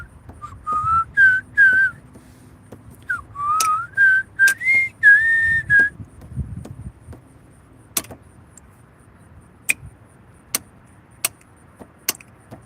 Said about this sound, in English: It's just one of those habits that I started whistling.